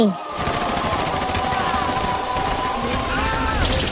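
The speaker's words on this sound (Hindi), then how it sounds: "जहाँ दिखे वहाँ गोली मारो" Gunfire in an animated Hindi cartoon: a dense, continuous rattle of rapid shots with whistling, sweeping tones layered over it, loud and close throughout.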